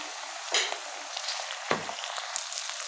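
Cubed tomato goes into a pan of onions and sizzles with a steady hiss, with a couple of sharp clinks and stirring sounds from the pan, close by and without speech.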